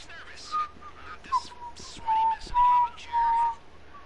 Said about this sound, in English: Whistling's over.